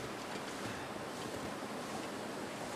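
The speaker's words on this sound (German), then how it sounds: "Oh ja, der Wind pfeift jetzt sehr gut." Steady, faint wind rushes without a break through the wintry wilderness of the survival game The Long Dark, a soft, even hiss with no talking.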